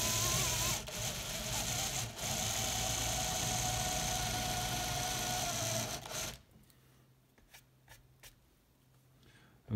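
A hand drill bores slowly into the wood of a semi-hollow guitar body, a loud steady whirring grind that runs for about six seconds before stopping abruptly, followed by faint clicks and handling noise.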